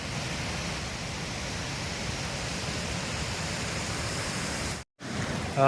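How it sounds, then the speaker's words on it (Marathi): A constant, dense rush of falling water from a waterfall at Manor Dam in the rainy season fills the air, steady and unbroken, with a brief dropout near the end. "तुम्ही आवाज ऐकू शकता धबधब्याचा"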